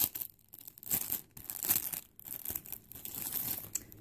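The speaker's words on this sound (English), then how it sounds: "Sorry for the crinkling." An envelope holding a Christmas card crinkles and tears as it is opened, giving close, faint, irregular paper rustles in short bursts with brief pauses.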